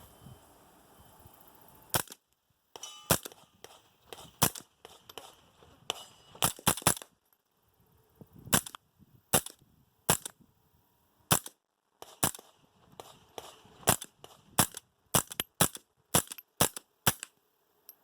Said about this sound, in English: Just gonna pop some of the clays we already hit out there, just hit some of those